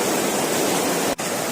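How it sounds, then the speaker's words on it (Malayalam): A wide waterfall near Athirappilly and Vazhachal: a dense, steady roar of falling water that fills the scene evenly, with one brief dip and no voices. "വിസ്താരമേറിയ കട്ടരുവി എന്ന് വേണമെങ്കിൽ പറയാം."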